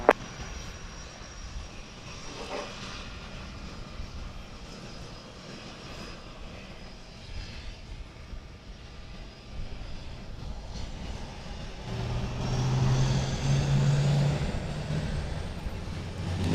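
A Delta airliner taxiing at SXM airport near Maho Beach, a continuous jet engine rumble and whine at a distance that slowly swells louder toward the end.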